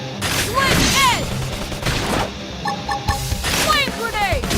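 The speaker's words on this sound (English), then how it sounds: "Knock him over with gunfire!" Video game gunfire, rapid bursts of shots and impacts mixed with whooshing effects and game sounds, layered under a voice talking throughout.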